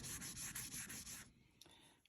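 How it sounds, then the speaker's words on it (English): Rapid back-and-forth strokes of hand sanding a 1965 Ludwig snare drum shell with fine-grit sandpaper rasp for about a second, then stop, leaving a few faint scrapes and taps. "I'm just going to lightly sand all the way around"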